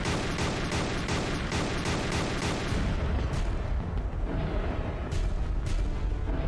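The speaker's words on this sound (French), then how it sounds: "Le son des canons des navires de guerre." Heavy cannon fire booms again and again over a dense, continuous rumble, the blasts overlapping into a thunderous barrage.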